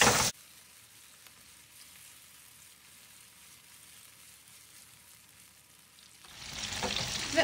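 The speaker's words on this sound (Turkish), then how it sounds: "Ve ortalama 3-4 dakika kadar kızarttım." Soft, steady sizzling of food frying in a pan, quiet for most of the stretch, then growing louder and brighter near the end.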